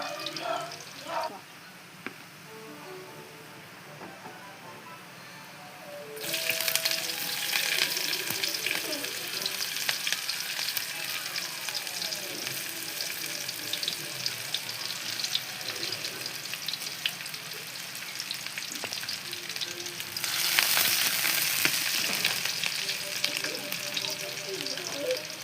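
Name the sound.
garlic frying golden brown for chicken tinola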